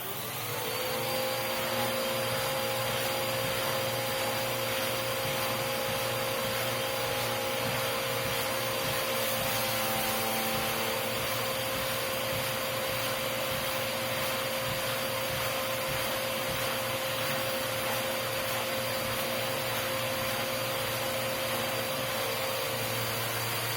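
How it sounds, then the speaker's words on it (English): Vacuum cleaner with a brush attachment running over the flaking fabric interior of a vintage Gucci Accessories Collection bag, a loud steady motor whine and airflow hiss held without pause, with slight changes as the brush moves. "I basically just turned the vacuum on, used this brush attachment, and brushed the fabric"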